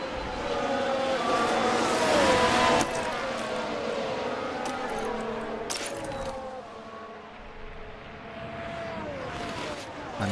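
A Ferrari Formula 1 car in F1 Manager 2024 overtakes, its high-revving engine whine rising and shifting pitch over a continuous roar of race cars on track, loud and sustained throughout.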